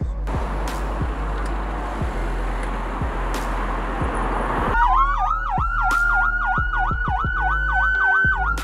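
Siren device installed on a Gentra car, wailing loudly in rapid repeating up-and-down sweeps in the second half, preceded by traffic noise with passing vehicles and occasional clicks.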